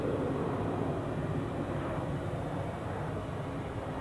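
A British Airways A319 airliner at Newcastle International Airport gives off a steady, broad engine roar that holds at a constant level throughout, with no voices.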